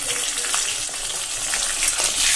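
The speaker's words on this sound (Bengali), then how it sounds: "মাথাটা ভালো করে ভাজা করতে হবে।" A fish head sizzles and spatters in hot oil in a home-kitchen pan, with onion and potato nearby, a steady close crackling hiss that runs the whole time with no speech over it.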